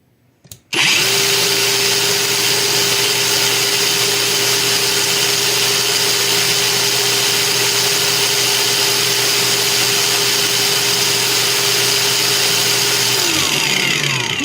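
A SHIDOKU cordless angle grinder running unloaded in a speed test, starting abruptly and holding a loud, steady high-pitched whine with a constant motor hum for over ten seconds before the pitch begins to sag near the end.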